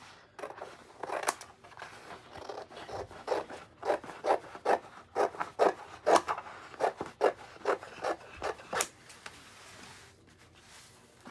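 Scissors snip through a paper sheet while cutting out a toy wrestling ring mat, making a steady run of close crisp cuts, about a dozen sharp bursts in a row with short pauses between them.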